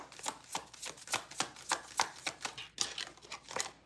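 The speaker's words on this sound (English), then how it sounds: "Gotta get a good shuffle in there." Tarot cards being shuffled in a steady run of crisp riffling bursts, about a dozen quick papery flicks close up with no talking.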